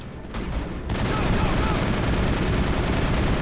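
Sustained automatic gunfire in the Mass Effect 1 video game, a dense continuous roar of rapid shots that swells after a brief opening, loud and close.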